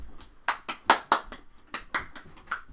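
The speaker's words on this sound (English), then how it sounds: "Round of applause." A few hands clap in sparse, uneven bursts, close and fairly quiet, with short pauses between them.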